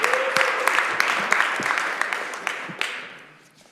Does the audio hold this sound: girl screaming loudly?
no